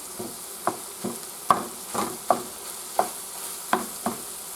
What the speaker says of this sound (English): So I'm going to probably get a lid and put on this just to make sure I cook that sausage patty.